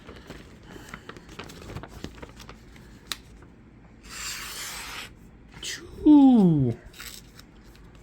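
A Cetus knife slices through a paper instruction sheet in one raspy, second-long cut amid quieter rustling and handling, followed by a voice exclaiming.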